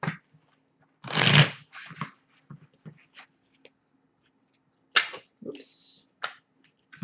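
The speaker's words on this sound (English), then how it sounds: "just going to do a quick shuffle here" Quick bursts of tarot cards being riffled and shuffled, a loud riffle early then softer flicks and taps, close by, with no talking.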